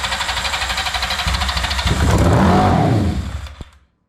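An 80 hp motorcycle engine fitted to a lawnmower kart runs loud and close with a fast, uneven popping idle, rises into a brief rev, then cuts out and falls silent.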